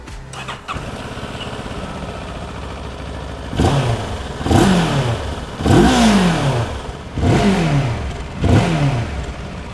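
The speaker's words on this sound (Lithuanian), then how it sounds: "Na, o dabar belieka motociklą tik išbandyti, bet žinoma, prieš tai paklausykime, kaip jisai skamba" A two-cylinder CFMOTO 700MT motorcycle engine starts, idles briefly, then revs sharply five times in quick bursts, loud and close by.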